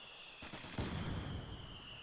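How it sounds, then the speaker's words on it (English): Mortar fire in the Company of Heroes 2 strategy game: a sharp thump lands about a third of the way in, then a louder booming impact follows with a rumbling low tail, over a steady high-pitched background tone. "That was a really nice mortar shot"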